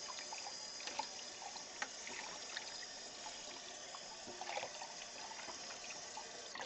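Glassware is rinsed under a running kitchen tap, a steady soft stream of water with faint clinks and splashes throughout, no talking.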